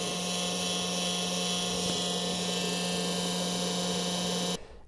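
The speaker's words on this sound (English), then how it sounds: "we're going to be switching out this fan right here on my Artillery 3D Sidewinder X1" The failing heatsink fan on an Artillery Sidewinder X1 3D printer whines loudly and steadily with a rough, buzzing drone, then stops abruptly near the end.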